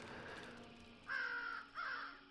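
Two crows caw in succession, loud and close, each call a drawn-out harsh note with a short gap between them, over a faint steady background hum.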